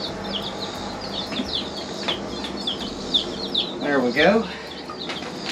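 Young chickens in a brooder peep and chirp continuously at close range, with one brief burst of louder cheeping, while a person speaks briefly.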